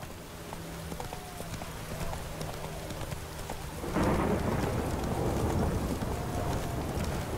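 A horse's hooves clip-clop in the video game Witcher 3, steady and fairly close, with rain and a low rumble of weather behind them. The sound grows louder and busier partway through as the horse speeds up.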